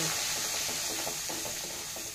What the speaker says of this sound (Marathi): मिरची, जिरं, बडीशोप आणि हे धने हे सगळं तेलात टाकून घ्यायचं। पण चांगलं भाजून घ्यायचं।